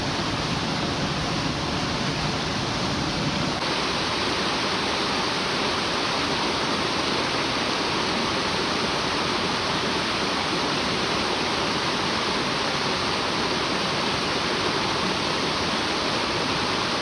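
Stream water flows through a forest creek where fish traps are set, a dense, steady rushing hiss that is loud and continuous throughout with no voices.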